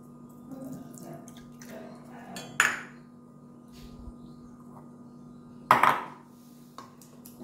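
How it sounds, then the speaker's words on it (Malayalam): Water is poured into a dish of chicken mandi in two short splashing bursts, separated by a quiet pause with a low hum behind. "വെള്ളം ഒഴിച്ച് കൊടുക്കാം."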